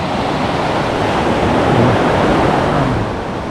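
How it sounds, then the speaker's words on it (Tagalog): Sea waves washing onto a white sand beach on Lambai Island, heard as a steady, loud broadband surf roar that eases slightly at the end, with no voices. "Ganda ng mga dagat dito."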